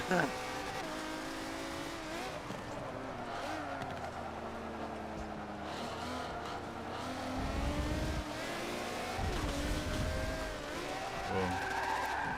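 Race car engine in Forza 7 howling and downshifting through gears, with pitch sweeps, rev blips and tire skids layered into a continuous loud racing mix, with talk underneath.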